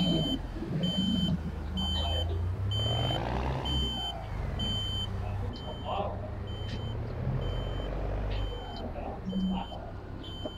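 A Volvo NL truck in a driving game parks with reversing beeps, a regular string of evenly spaced electronic tones over a low engine rumble, while voices talk in the room.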